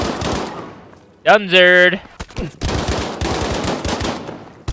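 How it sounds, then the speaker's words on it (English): Machine-gun bursts and gunfire in Battlefield V multiplayer, loud close rattling volleys that keep going with short pauses, while someone shouts briefly over them. "Where am I getting shot from, bro?"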